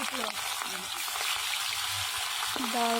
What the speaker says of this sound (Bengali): তারপর ওই পিঠ পাল্টে ভালো করে ভেজে নিলাম